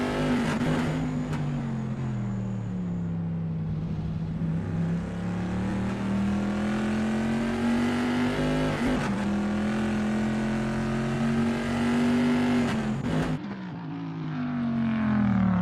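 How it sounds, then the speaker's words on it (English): Vintage pre-1973 race cars howl past at Imola in a racing game, a sustained high-revving engine note that rises and falls with gear changes, punctuated by brief whooshes of cars passing close by. "There's not much better than sitting near here and watching the cars speed by."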